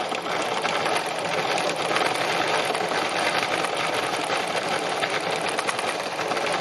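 A sewing machine runs continuously while stitching yellow embroidery thread on a daffodil design, its rapid needle making a steady, even whirring rattle at close range with no pauses.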